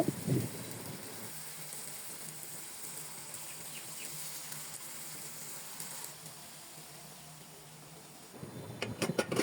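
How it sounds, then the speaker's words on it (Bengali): Potatoes coated in cornflour fry in oil, a steady, fairly faint hiss of bubbling oil like light rain, with louder clattering bursts at the start and end and no voices. "তারপর হচ্ছে তেলে দিয়ে দিলাম। এখন আমি হচ্ছে ভেজে নিব।"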